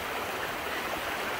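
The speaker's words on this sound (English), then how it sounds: "Sometimes you come across streams like this that you can't easily walk through unless you want to get your feet wet" A stream flows through a valley, a steady broadband rush of water that stays even and close throughout, with no voices over it.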